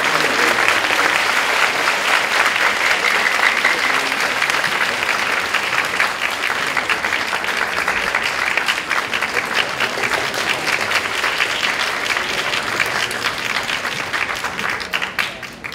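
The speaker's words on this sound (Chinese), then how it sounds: "现在就让我们以热烈的掌声欢迎陈文茜陈老师以及蒋" An audience in a lecture hall applauds to welcome speakers, producing a sustained, loud, dense clapping that holds steady for the whole stretch and fades slightly at the end.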